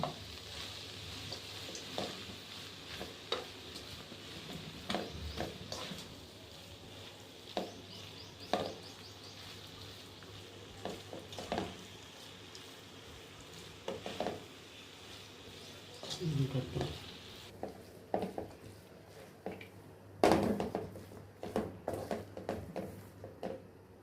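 Grated coconut being stirred into cabbage and carrot poriyal frying in a pan, soft scraping strokes over a faint sizzle, close and quiet, with someone talking intermittently.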